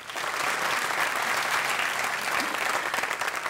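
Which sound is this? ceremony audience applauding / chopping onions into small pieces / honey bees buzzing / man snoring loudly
ceremony audience applauding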